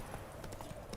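Horse hooves clip-clopping in the Witcher 3: Wild Hunt video game, a quick run of close, rhythmic hoof strikes over about a second, with faint speech-like sound in the background.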